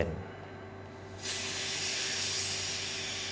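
An OZEN vacuum blender jar has its valve lifted, and after a moment of quiet a steady hiss of air rushes into the jar and continues evenly at close range.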